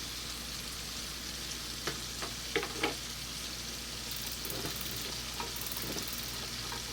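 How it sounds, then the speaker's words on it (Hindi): Chicken pieces frying in very hot oil in a frying pan for an Afghani chicken handi, a steady close sizzle throughout with a few clinks and scrapes of stirring, no talking. "अब इसमें ये चिकन डालेंगे। चिकन ऑयल फुल गर्म होना चाहिए।"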